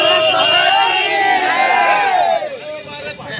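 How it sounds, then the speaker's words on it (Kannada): A crowd of town party workers shouting celebratory cheers after an election win, a loud massed roar of voices rising together close by, then tapering slightly toward the end. "ಪಟ್ಟಣದ ಕಾರ್ಯಕರ್ತರೆಲ್ಲರಿಗೂ ಅಭಿನಂದನೆ ಸಲ್ಲಿಸಿ ಹರ್ಷೋದ್ಗಾರ ಕೂಗಿದರು."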